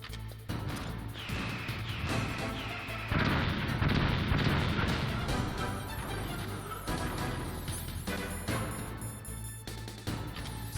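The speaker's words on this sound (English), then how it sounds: "Stinger missile." Stinger missile launch and explosions in the video game Metal Gear Solid, a dense run of blasts and crashing impacts lasting throughout, loud and sustained with heavy low rumble and no talk.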